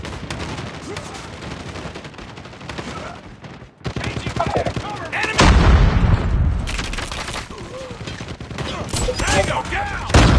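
Rapid gunfire and bursts fill a video game battle, dense and loud throughout with booming impacts, continuing without pause as the fighting grows more intense.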